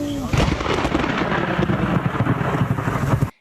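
Thunder from a nearby lightning strike during a storm crashes in as a loud, sustained rolling rumble with crackling texture for about three seconds before stopping abruptly.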